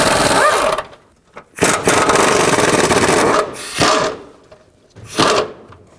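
A power ratchet with a 15mm socket spins out a nut and bolts on a 2010-16 Cadillac SRX engine in loud, close whirring bursts separated by short pauses.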